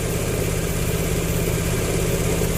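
A Honda Vario scooter engine runs up close after a no-start fault, giving a steady, loud drone with the throttle held open and no voices.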